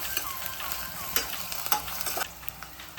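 Spice paste for Ambur kushka fries in a pan over a medium flame, with a soft steady sizzle broken by several scraping strokes of a spoon stirring it.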